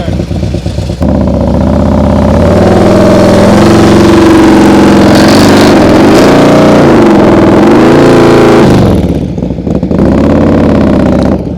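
During slow-speed practice a motorcycle is ridden slowly with too much throttle, its engine droning loud and close and rising and falling through a sustained rev before easing off, while someone talks over it.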